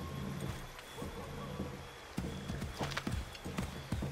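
Horse hooves clip-clop in a steady, close rhythm while riding through the Assassin's Creed 3 game world, with game ambience and a few sharper hoof strikes toward the end.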